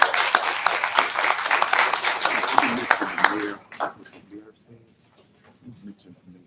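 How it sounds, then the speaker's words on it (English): An evening community gathering breaks into applause for itself, a dense burst of clapping for about three seconds that quickly thins to a few scattered claps and quiet murmurs. "I'm going to ask you to applaud yourself for being here tonight"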